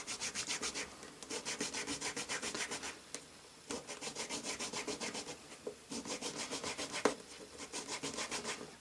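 Hand file cutting grooves into a small rod for a toy lightsaber handle: rapid rhythmic rasping strokes in close bursts, with short pauses between runs.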